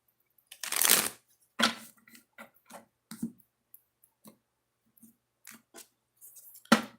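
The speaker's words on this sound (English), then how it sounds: "One more shuffle for couples," Tarot or oracle cards shuffled by hand in several quick, crisp bursts separated by short pauses, close and clear, with no talking.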